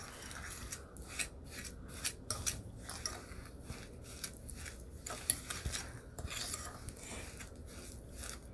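Sugar being mixed into mashed banana in a bowl for an eggless chocolate banana cake, heard as a steady run of scraping, rasping strokes against the bowl, close and fairly quiet, with no talk.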